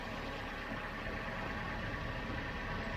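A 1.2 litre car engine runs steadily at idle, a constant even drone with no talking.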